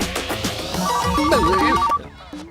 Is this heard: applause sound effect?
no